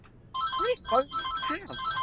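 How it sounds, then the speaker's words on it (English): A phone ringtone goes off, with bright electronic tones repeating in a short melodic pattern and a voice-like warble mixed in, fairly close and clear. "Why is every phone going off right now?"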